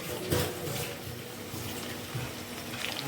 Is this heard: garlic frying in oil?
yes